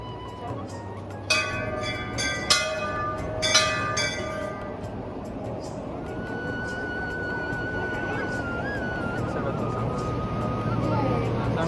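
A few loud metallic strikes of a Hindu temple bell ring out early, their tones lingering, followed by a steady hum of crowd noise and ambient activity.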